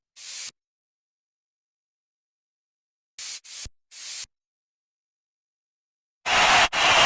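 Bursts of hissing white noise with a sidechain effect switch on and off abruptly, several short blasts separated by silence, ending with a longer fuller crowd-noise burst.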